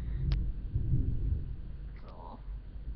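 Low rolling thunder rumbles through a storm, a heavy close boom that fades slowly over several seconds, with faint scattered clicks on top.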